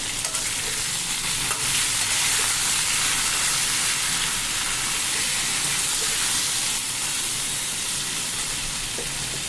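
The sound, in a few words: cumin and green chili tempering, sizzling in hot oil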